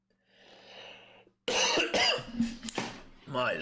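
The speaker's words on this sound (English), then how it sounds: "this cough is terrible" A faint breathy rasp, then a loud, close cough bursts out, followed by throat-clearing sounds and a voice.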